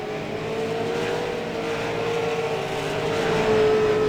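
A late model race car at Langley Speedway holds a sustained, steady engine drone as it runs through a turn, loud and continuous with a slight rise toward the end.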